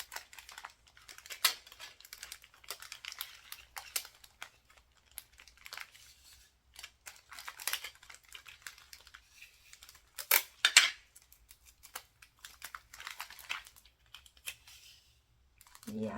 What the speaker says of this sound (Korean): 테이프로 감아줍니다